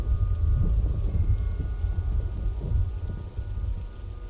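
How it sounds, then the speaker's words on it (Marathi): A thunderstorm brings steady rain and deep rolling rumbles of thunder that swell and fade throughout, heard alone without any voices. "जोरदार विजा चमकूक लागले आणि एकदम गडगडाक सुरुवात झाली."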